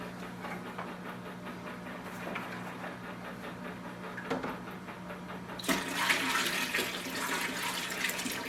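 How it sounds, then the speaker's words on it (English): A steady watery background gives way partway through to a louder, splashing pour of water into an EVO 7000Z1 machine that continues to the end. "I'm going to add a little more water."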